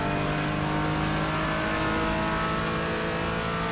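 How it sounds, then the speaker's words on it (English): Porsche Cayman GT4 engine lapping Laguna Seca in the iRacing sim, a loud continuous onboard drone holding steady pitch with layered harmonics, no voices. "touch the brake to get the car turned in, back on the power before you've got to the apex"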